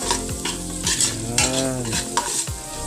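Chopped garlic frying and being stirred in a pan, steady sizzle throughout with repeated scraping strokes of a utensil against the pan, close and fairly loud, no talking.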